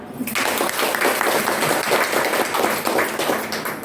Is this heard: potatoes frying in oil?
no